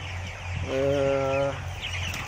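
Broiler chickens in a poultry shed with an automatic feeding system give a single drawn-out vocal call amid a low steady hum of shed machinery, with faint clucking around it.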